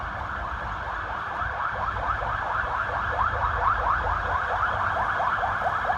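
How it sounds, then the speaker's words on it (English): An ambulance siren wails steadily in a rapid, repeating up-and-down pattern, fairly loud and sustained at a moderate distance, heard outdoors with no talking. "There's the ambulance here."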